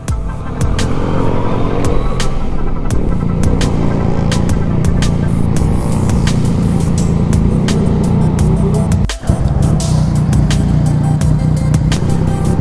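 Motorcycle fitted with a full Scorpion exhaust system, its engine a loud, steady rumble close by throughout, dipping briefly near the end before picking back up.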